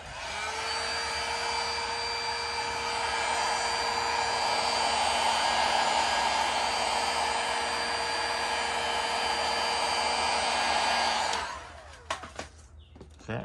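A heat gun blowing steadily while heating high-gloss piano black vinyl wrap on a Camaro, a loud continuous close whir that cuts off near the end, followed by a few handling knocks.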